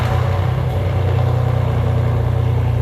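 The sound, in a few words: Porsche Panamera engine running nearby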